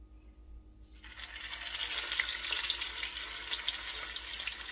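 Crab cakes frying in hot oil, a soft steady hiss of sizzling that starts abruptly after a quiet moment and holds evenly, fairly faint and close, with no voices.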